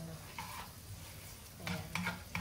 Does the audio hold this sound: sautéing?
yes